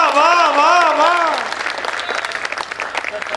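Audience at a poetry recital bursting into applause, a loud wash of clapping that starts at once and trails off within a few seconds, with a voice speaking over the start and scattered claps fading out.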